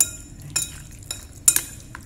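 Thinly sliced pork is stirred and mixed in its honey marinade before grilling, giving a few soft wet squelches and light clinks close up, with no voices.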